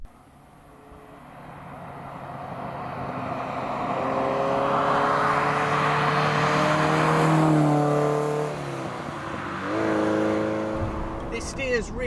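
A Ferrari 328 engine drones from inside the car while driving, swelling gradually as it accelerates through the gears, with pitch drops at the shifts, heard close and steady for the whole stretch.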